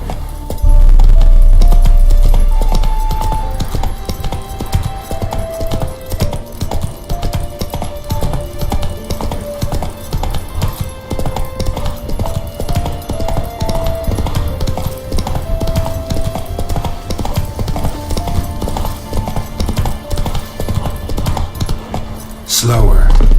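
A horse gallops in The Witcher 3 video game, its hooves clip-clopping in a fast steady rhythm close by for the whole stretch, with game music playing underneath.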